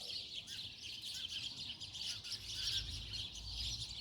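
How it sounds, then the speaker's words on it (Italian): Many birds chirp together in two large trees at dusk, a dense, steady chorus of high tweets heard from a distance, faint but continuous, with no voices. "questi due grandi alberi che contengono una quantità molto grande di uccelli che cinguettano"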